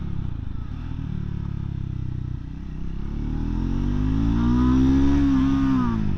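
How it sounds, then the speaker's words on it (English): A Triumph Scrambler 400X motorcycle engine revs steadily and climbs in pitch, with a buzzing rattle from a loose, vibrating mirror glass riding on top of the engine note close by. "it's that glass that's vibrating and not that one"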